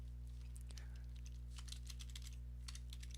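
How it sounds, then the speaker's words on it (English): Keys tapping on a computer keyboard during a livestream, a quiet scattered run of clicks over a steady low electrical hum, with no talking. "That sound of the typing right now is me messaging him"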